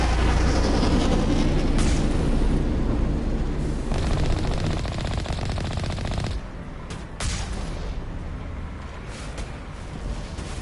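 Rapid sustained gunfire in Mass Effect, loud dense bursts of automatic shots that roll on almost continuously, thinning slightly near the end with a few separate cracks.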